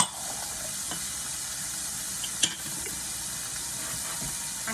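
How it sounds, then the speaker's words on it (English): Garlic browns in a pan for shrimp and spaghetti with a soft, steady sizzle. There is an occasional faint tap of a utensil, including one brief sharper click. No one speaks. "Let the garlic nicely brown."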